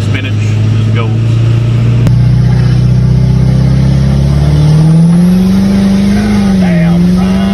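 A 6.7 Powerstroke diesel pickup with a budget turbo kit accelerates hard, its loud close engine note climbing steadily in pitch over several seconds with turbo whine above, while people talk over it.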